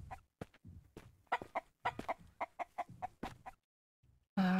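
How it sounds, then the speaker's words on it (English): Chickens in the survival game Mist Survival cluck in quick, choppy bursts, a string of sharp, close clucks and short squawks with brief pauses between them, then a sudden louder tone cuts in at the end. "So is this like the chicken that I am hearing right now?"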